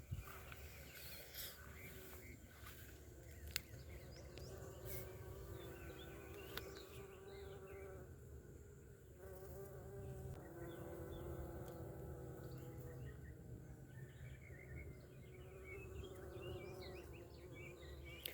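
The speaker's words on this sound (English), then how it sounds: "It is loaded with bees." Bees buzz around a large, fallen-over bee balm plant in a garden, a steady, close droning hum of many insects with a few louder passes near the microphone.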